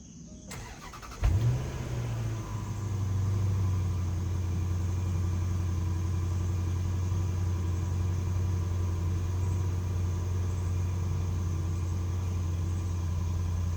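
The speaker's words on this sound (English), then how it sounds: "how does the .3 5-liter L322 Range Rover drive?" The 5.0-litre V8 of an L322 Range Rover cranks and fires up with a short rising catch, then settles into a steady, low, rumbling idle that carries on evenly, heard close and alone.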